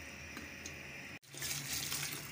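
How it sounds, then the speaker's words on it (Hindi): Water poured or running into a cooking pot for a palak gosht curry over a medium flame, a steady close splashing rush that swells after a brief break, with no talk. "मीडियम फ्लेम पे हम इसमें तकरीबन 4 गिलास पानी इसमें ऐड करेंगे"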